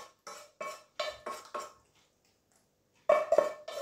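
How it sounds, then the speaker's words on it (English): Apples dropped into an 8-inch square baking dish for a caramel apple crumble: a handful of close, crisp clunks and clatters in quick succession, a short quiet gap, then another burst of knocks against the dish. "We pop our apples in."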